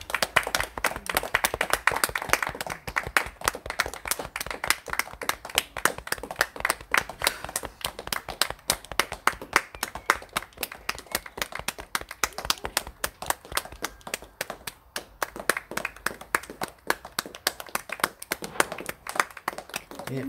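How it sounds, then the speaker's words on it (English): Neighbours clap outdoors on a residential street during lockdown, a dense rapid patter of many hands going on without pause, with occasional muffled voices underneath. "Everyone's clapping."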